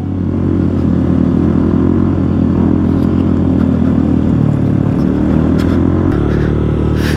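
Motorcycle engine labouring steadily as it climbs an off-road dirt trail, a loud continuous close drone with small pitch shifts and some clatter, no speech.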